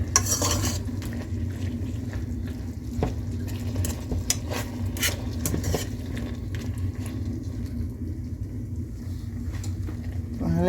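Shrimp in a soy and garlic sauce with spices simmers in a pan, bubbling softly while a utensil scrapes and clinks against the pan in repeated stirs.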